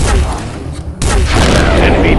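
An enemy blows up in the iOS space shooter game Space Encounter, a loud booming blast that breaks off and is followed by a second burst, heard close over dense game noise with a voice speaking.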